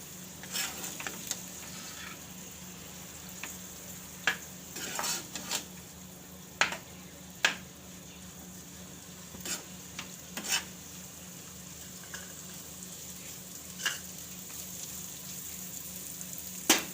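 Pasta ingredients are sautéed in oil in a home kitchen, a soft steady sizzle under repeated clinks and scrapes of a utensil against the pan, scattered irregularly across the stretch.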